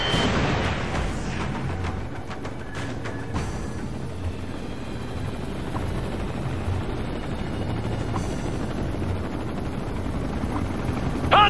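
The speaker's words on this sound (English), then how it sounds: "Hostile chopper inbound!" Hostile helicopter in the Ghost Recon Future Soldier video game, a steady rotor and engine drone that fills the scene, joined by scattered gunfire cracks and explosions early on.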